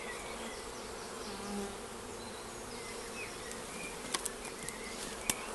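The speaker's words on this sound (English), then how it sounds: "there's a fair few bees queuing up to go in" Honeybees at a bait hive entrance hum steadily nearby, a soft continuous buzz with a few faint clicks and taps near the end.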